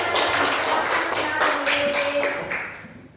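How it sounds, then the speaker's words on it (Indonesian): A small group claps in steady unison during an elementary school lesson, about a dozen crisp claps in an even rhythm that fade out near the end. "Tepuk tangan"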